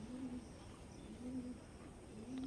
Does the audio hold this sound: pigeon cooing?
yes